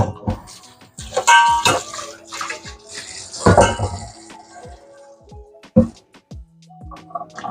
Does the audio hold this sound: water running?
yes